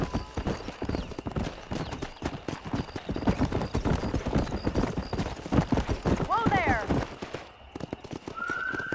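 Rhythmic clip-clop of horse hooves while riding in the Red Dead Redemption video game, steady galloping beats with a whistle and game voices speaking over the hoofbeats.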